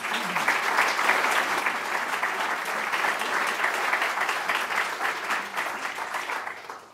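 A full audience claps steadily and loudly for about seven seconds to welcome speaker Jonathan Lopez at the Cleveland Museum of Art, then the applause tapers off at the end.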